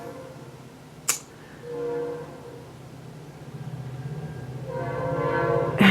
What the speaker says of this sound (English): just waiting for this train to pass.